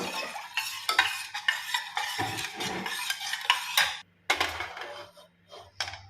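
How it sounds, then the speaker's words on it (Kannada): Ragi mixture, lightly salted with water added, stirred in a pan over a low flame: steady rhythmic scraping and sloshing strokes, close by and moderately loud, with brief pauses and no talking. "ಲೋ ಫ್ಲೇಮಲ್ಲಿ ಇದನ್ನು ಕೈ ಆಡಿಸ್ತಾ ಇದನ್ನು ಬೇಯಿಸ್ಬೇಕು ಕೈ ಬಿಡಬಾರ್ದು"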